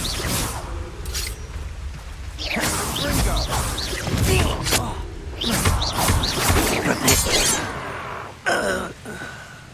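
Confringo spell blasts in the Hogwarts Legacy video game, several sharp crashing impacts and whooshes in quick succession amid combat clatter, with gasps and grunts mixed in.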